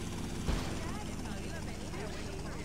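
Helicopter in the video game GTA: Vice City, a steady low rotor drone running throughout with a brief louder burst near the start, under game music or voice.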